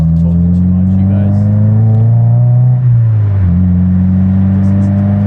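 Loud, close Subaru WRX VB with an Invidia R400 exhaust revving, the deep engine drone rising then dipping briefly before holding steady at a raised idle.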